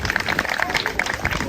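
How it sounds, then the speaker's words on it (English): Brief applause at an International Women's Day celebration in Coventry, quick scattered handclaps close by, with faint voices mixed in. "A round of applause for Tanya, please."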